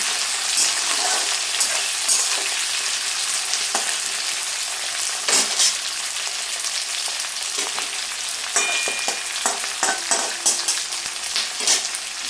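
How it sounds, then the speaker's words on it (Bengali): Chopped onion and capsicum fry in a pan for a mushroom chilli dish, giving a loud, steady sizzle that runs throughout with scattered stirring clicks close by and no voices. "পেঁয়াজটা দিয়েও আমরা দু তিন থেকে তিন মিনিট ভেজে নেব"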